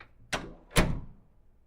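Two heavy thuds land about half a second apart, doors being pushed open in a dramatic roleplay scene, each impact close and solid with a short decay, then quiet.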